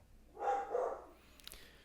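A pet dog indoors barks once at other dogs seen outside, a single moderately loud bark that quickly fades, followed by quiet.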